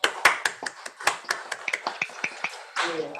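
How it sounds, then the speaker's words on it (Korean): Scattered clapping from a small audience after a safety-education lecture, a loose series of sharp individual claps, then a brief denser patter at the end. "우리 고마운 마음으로 박수 한번 크게 한번 칩시다."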